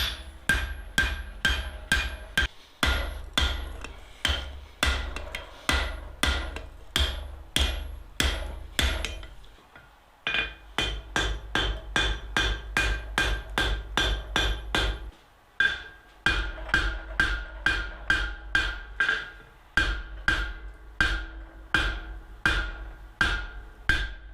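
Heavy forging blows from a 3-pound hammer shaping barn door hardware: loud, close, rhythmic strikes in long steady runs, a few quick brief pauses between bursts, no talking.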